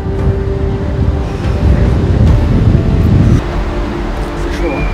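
A gust of wind buffets the microphone with a loud, rumbling low roar that swells in the middle and eases off, while people talk over it.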